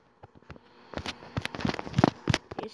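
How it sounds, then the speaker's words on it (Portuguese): A new dragon weapon in a video game fires shotgun-like blasts, a run of sharp broadband bursts in quick irregular succession, loud and close, with no talk over them. "Esse tiro aqui parece um tiro de uma espingarda."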